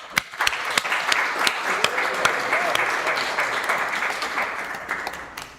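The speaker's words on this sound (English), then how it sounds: "Many, many applause to you, Ron." Church audience applause after a sung performance, steady clapping with a few sharp, sparse claps standing out, under a faint voice.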